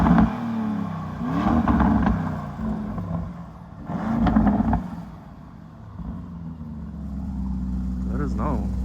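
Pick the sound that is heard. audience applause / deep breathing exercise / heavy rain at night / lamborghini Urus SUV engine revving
lamborghini Urus SUV engine revving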